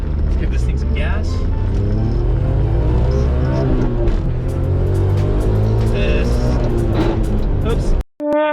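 Suzuki Cappuccino kei car engine revving up under throttle, a loud, steady rising drone from inside the cabin lasting several seconds before cutting off abruptly near the end, with a brief burst of sound after.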